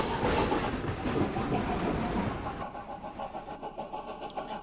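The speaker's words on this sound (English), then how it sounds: "But this train is gonna leave right at that. Let's watch him go." A train pulls away in Chris Sawyer's Locomotion, a dense rumbling clatter of wheels and engine that drops to a lighter, thinner rattle partway through, with no voices over it.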